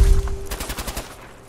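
Fallout 4 video game gunfire: a rapid burst of about six to eight sharp shots in quick succession at moderate loudness, following a brief steady tone, with no voices.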